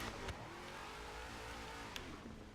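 A supercharged car engine revs steadily in Forza Horizon 3, holding a continuous drone with a couple of brief sharp transients, playing alone without talk.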